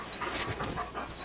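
An overexcited, worked-up dog pants in quick, rhythmic breathy bursts close to the listener, loud and steady throughout, with no voices over it.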